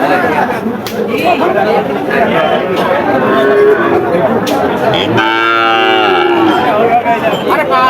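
At a busy livestock market selling bulls and heifer calves, cattle low loudly and close by, with one long, strong moo near the end, over constant crowd chatter and people talking.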